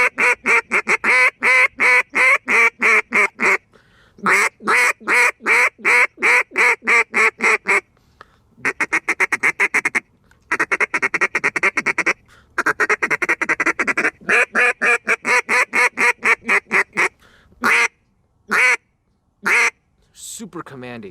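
A duck call blown hard produces loud, rapid bursts of nasal quacking in repeated runs, each string separated by short pauses, close and dominant with no other sound between.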